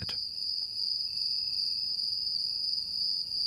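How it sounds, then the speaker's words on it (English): A fall field cricket (Gryllus pennsylvanicus) trills in a steady, continuous high-pitched chirp that holds at an even, close level from start to finish, alone with no voices. "take a listen to this sample of Gryllus pennsylvanicus, or the fall field cricket."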